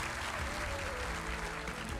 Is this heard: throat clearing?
no